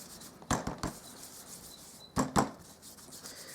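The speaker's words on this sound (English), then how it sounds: "So I'm just going to grab my embossing buddy. I'll do that first." An embossing buddy is rubbed over cardstock in short scuffing strokes, two quick pairs of soft rubs heard close and fairly quiet.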